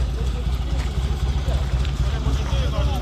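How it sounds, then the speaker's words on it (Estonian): Old motorcycle engine runs steadily at a gathering of vintage vehicles beside a windmill, a low continuous rumble with people talking over it. "Näe, mootorratas käib nagu Antsu viiul."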